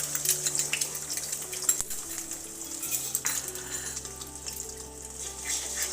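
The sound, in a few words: beaten egg frying in hot oil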